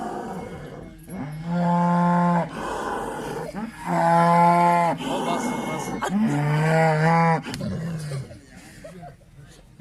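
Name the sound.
jersey cross cow and buffalo mooing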